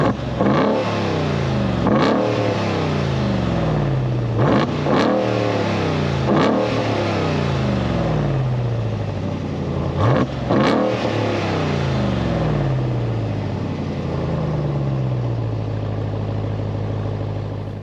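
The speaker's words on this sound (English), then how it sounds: "let's go ahead and fire it up so you can hear how it sounds real quick" A 2023 Ram TRX's supercharged 6.2L Hellcat V8 roars loud and close, with about half a dozen sharp throttle blips climbing over a deep, rumbling idle that settles lower between revs.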